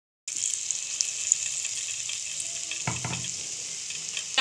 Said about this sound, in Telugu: ఇప్పుడు మనం డ్రై ఫ్రైలో వేసేద్దాం.